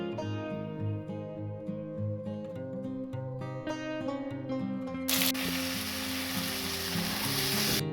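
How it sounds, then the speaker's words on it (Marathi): Paneer pieces frying in hot oil in a kadai, a steady soft sizzle under background music that swells into a louder, denser crackle partway through. "आता मी दुसरे पण टाकून फ्राय करून घेते"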